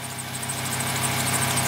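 A 2008 Volkswagen Rabbit engine idles steadily nearby, a low even hum with a fine regular pulse and no voices.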